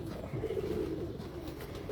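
Champion-breed pigeons cooing softly in a loft, low rolling calls repeating quietly against steady background noise.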